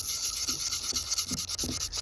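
A wooden turkey call's surface is roughed with quick, repeated rasping rubs, a short close-up series of scratchy strokes at an even rhythm.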